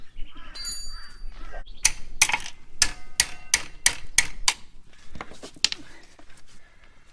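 A ratchet loosening tight bolts on the front wheel of a Yamaha Virago 1100cc motorcycle makes a rapid run of sharp metallic clicks that is close and fairly loud, followed by quieter fiddling sounds.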